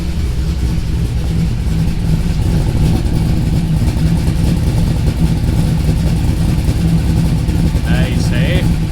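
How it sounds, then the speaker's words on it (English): A car with a modified, newly quietened exhaust idles steadily and loudly up close, a constant deep rumbling drone that holds for the whole stretch with no talk. "Here's what it sounds like. It's a lot quieter now with the exhaust."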